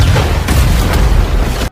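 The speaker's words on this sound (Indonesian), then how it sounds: "Tapi ada granat yang meledak di dekatnya." A grenade blast in an action film scene: a loud, booming explosion with a rumbling low tail that holds for over a second and then cuts off abruptly.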